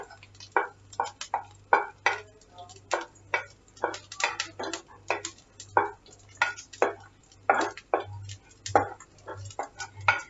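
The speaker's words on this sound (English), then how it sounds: "I have added the green chilies and we are gonna saute it." Green chilies sauté in hot oil in a pan for rawa uttapam, with regular rhythmic scraping stirs roughly every half second over a faint sizzle. A steady low electrical hum sits underneath.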